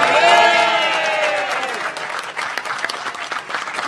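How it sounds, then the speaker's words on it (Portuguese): An audience applauds during a Brazilian runoff election night gathering in 2018, starting under a sustained voice and thinning into scattered, crisp claps that continue to the end. "vamos dar uma salva de palmas"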